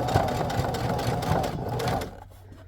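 A sewing machine stitches a vintage-style needlebook with pins still in the fabric. A loud, close, rapid rhythmic whirring runs for about two seconds, then stops, leaving a quieter tail.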